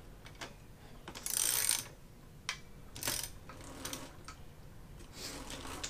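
Clicking, mechanical ratchet-like sounds while a new bike's chain is loosened, short bursts and a longer rattling stretch at close range over a low background hum.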